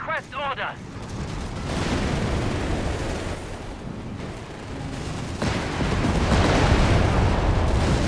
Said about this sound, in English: We got Allied covered creeping barrage here.